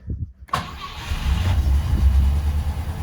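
A Rover V8 with a little choke set cranks and catches at about half a second, then settles into a loud, steady, rumbling idle close by, with no talk.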